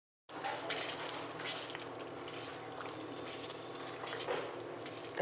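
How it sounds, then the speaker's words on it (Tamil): Tomatoes frying and softening in a pan for a Madurai-style tomato thokku, a steady close sizzle with faint stirring and liquid bubbling throughout, no talk. "தக்காளி நல்லா வெந்து வதங்கி வந்துக்கிட்டு இருக்கு."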